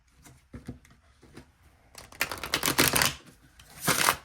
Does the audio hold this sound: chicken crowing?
no